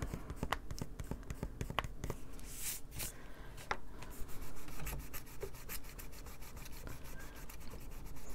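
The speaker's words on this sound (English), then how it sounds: "I'm just rubbing my finger across the bottom to drag the color across." A finger rubs colored pencil across a paper page, producing soft, continuous scratchy friction with repeated short strokes, close and quiet, with no talking.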